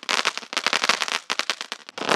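Rapid crackling bursts of Sivakasi firecrackers going off in dense, irregular clusters during a live test, loud and close, with brief gaps between volleys and no talk.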